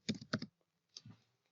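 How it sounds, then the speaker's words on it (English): Clusters of key clicks from typing a password on a computer keyboard while signing up for a Twitch account, two quick bursts then a softer third, close and alone. "Now type in the password."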